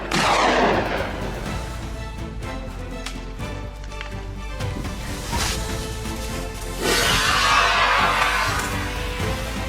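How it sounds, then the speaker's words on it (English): A rifle shot during a wild boar hunt comes as a loud sharp report at the start, followed by outdoor rumble and a second burst of noise partway through, with no speech. "His dead-on shot ended that boar's rampage for good"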